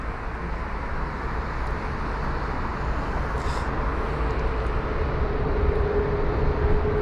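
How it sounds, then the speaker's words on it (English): An Emirates A380 airliner lines up and begins its takeoff roll at London Heathrow, a broad, steady roar of engines heard from a distance that swells gradually over several seconds, with no talking. "There it is, just lining up now, speeding up. Is the Emirates A380."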